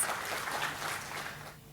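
Applause at the 2024 Maharashtra Business Conclave, a dense wash of hands clapping steadily for a speaker, fairly faint and distant in a hall, thinning out toward the end.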